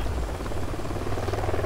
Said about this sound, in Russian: Вертушка.